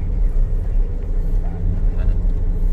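Vehicle engine laboring up a steep road diversion in Gumaca, Quezon, a steady low rumble that holds close and loud throughout with no pauses.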